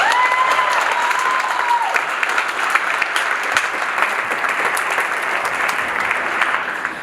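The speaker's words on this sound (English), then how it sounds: "Can we please give them a round of applause?" An audience applauds the Farallon High School Honors Orchestra at a spring school concert, dense sustained clapping filling the hall from start to finish, with a brief tone audible at the opening.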